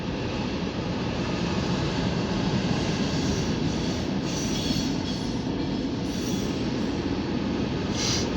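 Freight train with sand cars rolling past, a loud continuous rumble of wheels on rails with faint metallic squeal, steady throughout.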